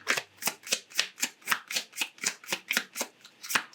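Tarot cards being shuffled by hand, a steady series of about fifteen crisp riffling bursts in an even rhythm, close and clear with no talking.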